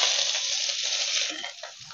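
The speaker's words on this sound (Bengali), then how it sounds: "হালকা ভেজে নেব" Chopped onions sizzle in a pan of oil with fennel and nigella seeds, a bright, steady hiss close by with faint soft stirring knocks beneath.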